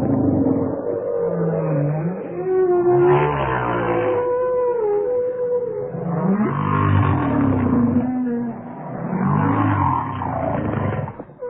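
Humpback whale calls recorded underwater at sea: long, low, moaning and groaning vocalizations with rising and falling tones, arriving in three loud swells separated by short pauses, with no other sound around them.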